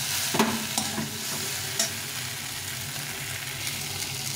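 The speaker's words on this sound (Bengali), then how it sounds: "সুন্দর বেগুনটা ভাজা হয়ে গেছে" Softened eggplant and potato pieces fry in a pan with a steady sizzle, broken by a few sharp scrapes and clicks of stirring.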